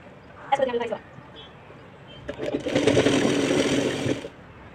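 Sewing machine running a stitch along a folded hem bottom, one short burst early and a longer steady whirring run of about two seconds, close and moderately loud.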